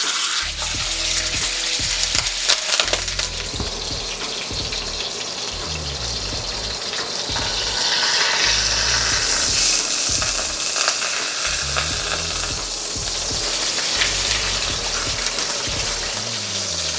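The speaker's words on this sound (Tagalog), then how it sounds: "sinisir ko muna tong beef shank para makuha natin yung Maillard reaction" Beef shank sears loudly in a hot pan for bulalo, a dense, continuous sizzle and crackle with rising and falling spurts of spitting fat, close up and with no talking.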